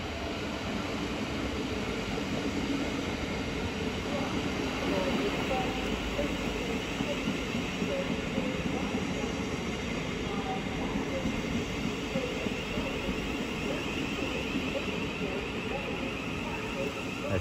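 A Thameslink Class 700 electric train pulling into Bromley South station on the South Eastern Main Line, a continuous broad rumble and hiss of wheels and motors holding steady throughout, fairly loud and near.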